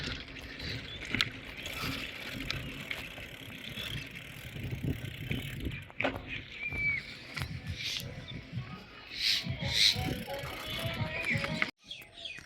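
A bicycle rolls along a village road outdoors, its steady low rumble and rattle continuous and close, while birds chirp and tweet in the background.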